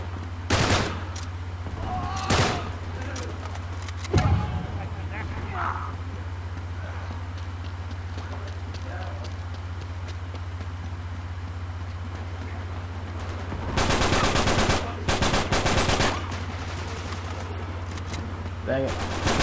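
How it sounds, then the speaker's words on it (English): Uncharted 3 gameplay gunfire comes in sharp single shots and dense bursts of rapid fire, with quieter stretches between, over a steady low hum and some faint speech. "How many times am I gonna get shot in the freaking back?"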